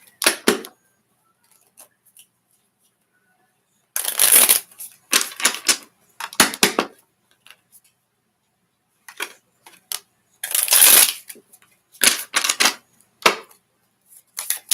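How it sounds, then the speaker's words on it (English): Bursts of riffling and flicking tarot cards, several quick shuffles separated by short silences, close up. "One more shuffle"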